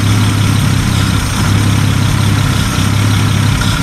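A 1949 Plymouth Special Deluxe engine, stored for 12 years, idles in neutral with a steady, loud low rumble and continuous vibration throughout, with no talking.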